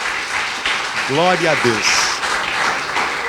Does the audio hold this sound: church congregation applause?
yes